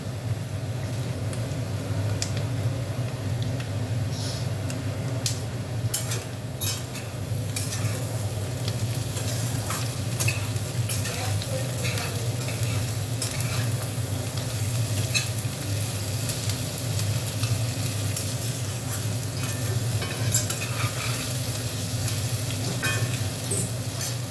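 Bottle gourd peel frying in a pan gives a steady, close sizzle that lasts throughout, with frequent light scrapes and clicks of a spatula stirring, and no talking.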